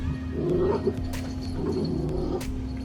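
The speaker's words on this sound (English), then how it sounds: "My dog's going crazy with his toy." A dog plays excitedly with its toy indoors, giving low growls and snuffling, whimpering sounds close by over a steady room hum, with a few sharp squeaks or thumps.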